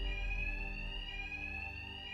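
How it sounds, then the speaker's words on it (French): An alarm rings continuously with a shrill, steady electronic tone over a low droning rumble in the video game Batman: Arkham Knight. "Les sbires de Double Face ne m'entendront pas avec l'alarme."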